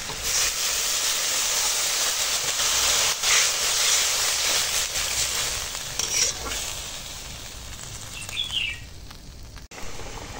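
Steady bubbling sizzle from a pan of curry gravy boiling on the heat, with occasional stirring clatter over a continuous hiss.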